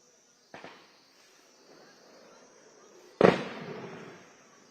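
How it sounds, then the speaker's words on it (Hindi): Gunfire during an army encounter in Anantnag, two sharp distant reports several seconds apart, the second louder and echoing away, over a faint high insect-like drone. "ये देखिए फायरिंग की आवाज।"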